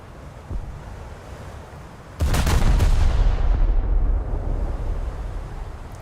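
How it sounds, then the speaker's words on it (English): Forward naval guns of HMS Queen Mary in a warship game fire in a heavy booming salvo that rumbles on for a couple of seconds, over a constant hiss of sea and wind, with no voices. "But at least we can fire the front guns already."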